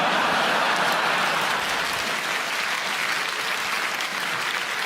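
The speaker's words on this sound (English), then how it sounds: "I get a round of applause always" Steady, full audience applause at a stand-up comedy show, a close wash of clapping that holds the whole time with a slight dip midway.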